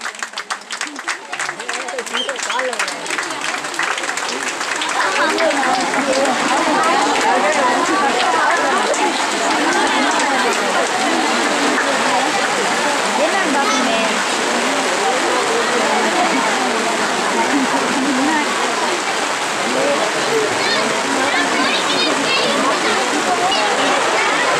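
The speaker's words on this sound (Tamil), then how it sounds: "கரகோஷங்களை எழுப்புங்கள், தொடர் கரகோஷங்களை எழுப்புங்கள், இடையில் நிறுத்தாதீர்கள்." A crowd claps continuously through a prize-giving ceremony at a Janmashtami festival gathering in Arattupara, a thick, unbroken roar of applause that swells after the first few seconds and stays loud and even throughout.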